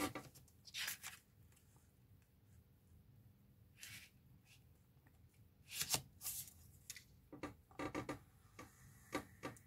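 A sheet of paper being creased and folded along its middle square during an Easter basket craft, giving quiet crinkly rustles and sharp brief snaps in scattered bursts, close and soft.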